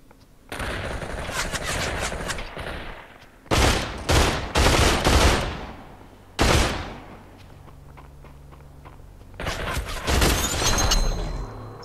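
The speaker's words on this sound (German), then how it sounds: "Rechts sind auch noch Schüsse." Gunfire in the VR battle game Population: One crackles in loud close bursts and rapid automatic volleys, separated by quieter gaps of distant shots and movement, with players talking faintly in between.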